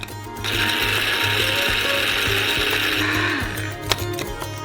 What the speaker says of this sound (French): Et on balance au mixeur.